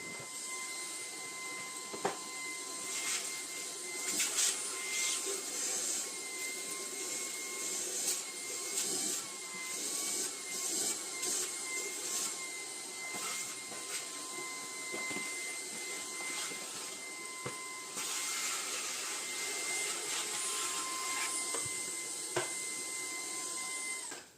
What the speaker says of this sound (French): je n'ai plus qu'à passer un bon coup d'aspirateur